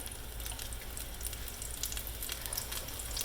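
Beef tips sear in olive oil over high heat, a soft, continuous sizzle with crackling pops, quiet and steady with no talking.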